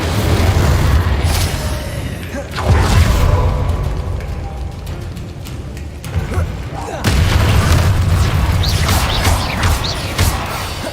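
Spell blasts from the Confringo fire spell in Hogwarts Legacy boom repeatedly over constant game background noise, with loud bursts and crackling across the clip.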